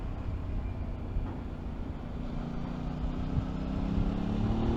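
A 2021 Aprilia RS660 motorcycle engine drones steadily with low rumbling and a gradually rising pitch, heard continuously throughout without speech.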